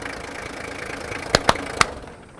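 A Toyota 2H diesel engine runs in an HJ45 Land Cruiser, a steady mid-pitched idle hum broken by three sharp clacks near the end before the sound fades as it shuts down.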